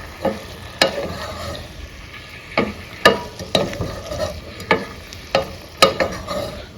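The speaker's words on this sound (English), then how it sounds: "I'm gonna stir it up" A spoon stirs food in a pot with about a dozen sharp scraping knocks against the metal at an uneven, unhurried pace, close and clear over a low simmering sizzle, no speech.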